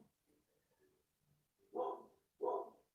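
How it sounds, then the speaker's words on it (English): A dog indoors barks twice in quick succession near the end, two short loud woofs after a quiet stretch of faint whimpering sounds. "Sorry about my dog barking in the background."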